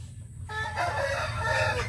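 Hens cluck near an oyster shell and eggshell feeding station, with a rooster crowing loudly and continuously through the short moment over a steady low farmyard hum.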